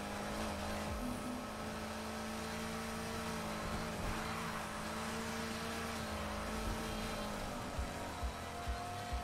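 Car engine in Need for Speed Heat racing game, accelerating hard with nitro boost on a circuit course; a steady, loud, sustained roar with rising tone, close and continuous throughout.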